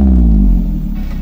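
A Maruti Zen car engine rumbles loudly up close with a deep, steady low drone that eases slightly toward the end.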